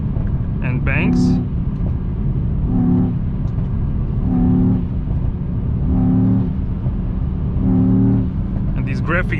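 A 2021 Mercedes E63S AMG sedan drones steadily while sharp exhaust pops and bangs crackle out in short bursts, with a few rising throttle blips recurring every couple of seconds, close and loud.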